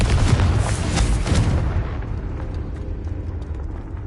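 A fire-blast spell in a wizarding-school video game detonates with a loud, close boom and roaring burst that rumbles for about a second and a half, then fades into a lingering crackle and low ambience.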